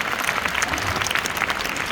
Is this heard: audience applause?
yes